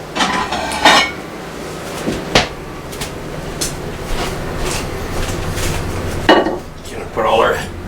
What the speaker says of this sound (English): I'll just get a plate to throw these eggs onto.